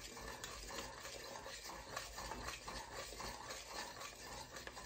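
A spoon stirs a pecan candy mixture in a pot while the sugar dissolves, giving a soft continuous scraping and swishing that stays faint and close, with no voices.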